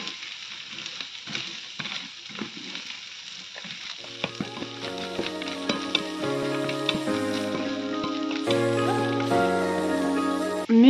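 Peas and flat beans sizzle steadily in a pan, a soft continuous frying hiss that runs alone throughout while light background music plays in the later part.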